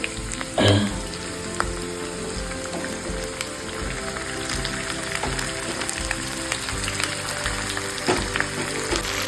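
Chicken pieces and browned onions sizzle in a pan for dhania chicken, a steady crackling fry that runs throughout at moderate level, with a brief louder burst of spitting near the start and no talking.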